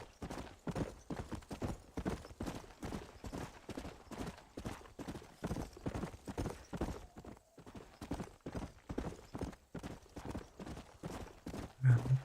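Horse hooves clip-clop in a steady, even trotting rhythm in the video game Red Dead Redemption, fairly faint and continuous throughout, with a short snort or neigh near the end.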